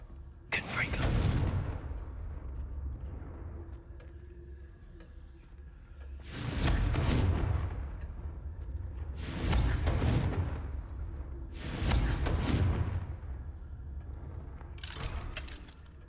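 Confringo fire spells are cast in Hogwarts Legacy, heard as four or five loud whooshing, crackling blasts spaced a few seconds apart, with a speaking voice between them.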